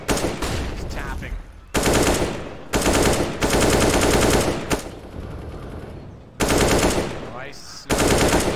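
Loud, rapid bursts of rifle fire in a CS:GO match on the Inferno or Train map, shots coming in several separated volleys with brief gaps between them, loud and close.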